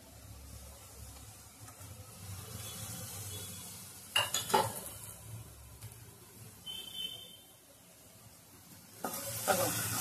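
Whole spices, turmeric, red chili powder and garam masala sizzle in oil for a tondli vegetable dish, a low steady fry punctuated by a few sharp scraping stirs of a spoon against the pan.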